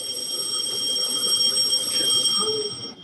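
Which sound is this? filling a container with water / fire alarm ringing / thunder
fire alarm ringing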